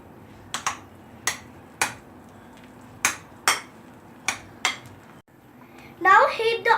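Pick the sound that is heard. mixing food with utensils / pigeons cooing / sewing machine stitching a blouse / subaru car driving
mixing food with utensils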